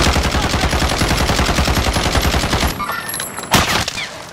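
Call of Duty gunfire rattles in a fast, steady automatic burst, loud and near, then cuts off into a quieter background with one more sharp shot.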